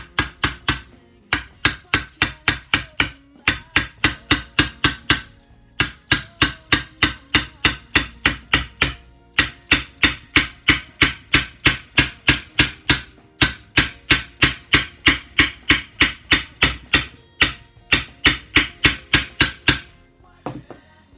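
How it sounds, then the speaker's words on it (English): A hammer tapping a fret into a guitar fretboard during a guitar build, working from the middle outward. Rapid, sharp, evenly spaced metallic taps come in close bursts of about a dozen strikes, with short pauses between the bursts. "Got my faithful hammer, and I start tapping in the middle"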